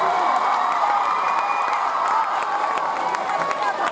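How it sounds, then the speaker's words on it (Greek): Live concert crowd in Athens applauding and cheering for parents in the audience, a dense, steady wash of clapping and shouts sustained loudly throughout. "Ένα χειροκρότημα σε αυτούς που αντέχουν να είναι εδώ."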